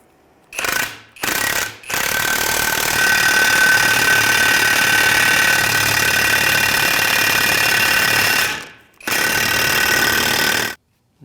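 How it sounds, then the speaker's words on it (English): A hydraulic press forces a lower control arm bushing out of a 2003-2011 Honda Element, giving a loud, steady grinding roar in long bursts: two short pulses, then a sustained push of about seven seconds and one more after a brief pause. "our press is going to push on one end and receive on the other."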